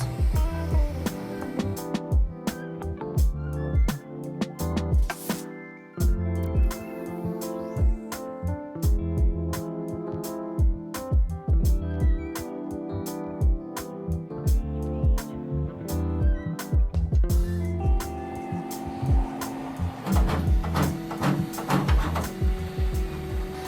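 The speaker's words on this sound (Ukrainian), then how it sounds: "Цей принтер з коробки здатний друкувати чотирма кольорами одночасно" Mechanical whirring and stepper-motor tones from a Bambu Lab P2S 3D printer printing in four colors, punctuated by steady clicks and short bursts of movement, close and continuous.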